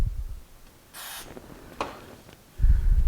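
Aerosol spray can hissing onto a circuit board of a Pioneer SX-770 stereo receiver stored for over 30 years, one short burst followed by a fainter brief puff, close up, then low handling noise.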